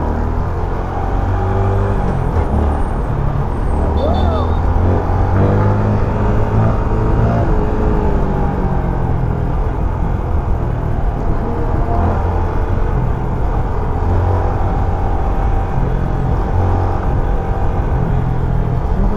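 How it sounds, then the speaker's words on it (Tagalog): A Yamaha PG-1 motorcycle ridden on a road with traffic and a truck ahead, a steady loud engine drone and wind rumble throughout, heard from the rider's position. "Try ko lang i-drive test tong motor na to."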